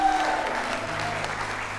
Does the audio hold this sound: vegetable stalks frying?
no